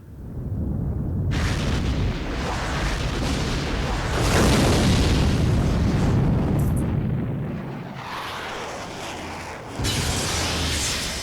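A huge video game explosion destroying the moon in Suzuki Bakuhatsu, a deep sustained rumbling roar that swells, fades and surges again across several seconds, loud and without talk.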